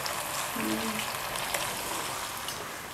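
Fresh, firm red tomatoes hit a hot pan for matar pulao, giving a steady, close sizzle and frying crackle with a brief faint clank near the start.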